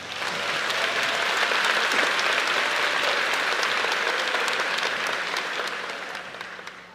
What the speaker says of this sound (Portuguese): Quem pode dar a Jesus uma linda salva de palmas?